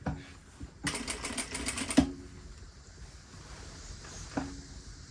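Sewing machine stitching a seam in a short burst of rapid needle clatter, close by, followed by quiet handling noises and a few faint clicks.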